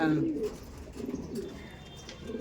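Andhra pigeons coo in low, soft, repeated phrases at a loft, with a few pauses between bursts and faint background murmur.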